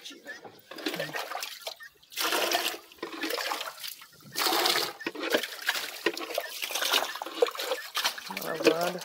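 Water is scooped and splashed out of a canoe on a tidal channel in Primeira Cruz, Maranhão, in repeated sloshing bursts close by, under a voice.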